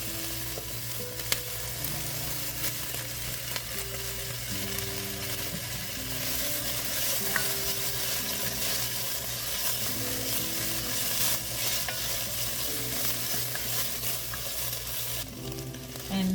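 Onion and peppers sauté in a pan with a steady, even sizzle that holds for the whole stretch over a constant low background hum, with no voices.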